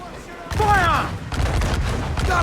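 Broadside cannon fire from sailing warships in a naval battle game booms out in a heavy burst, followed by crackling rolling blasts that linger over the din of combat.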